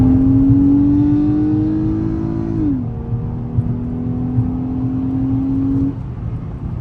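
A Ford Fusion Sport with a 3.5-liter Duratec V6, dual overhead cam and 24 valves, drones steadily as its engine note climbs, dips abruptly, then holds and rises again, close and loud with no talk.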